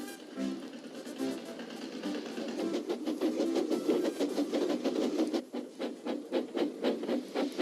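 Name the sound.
tractor engine working in a field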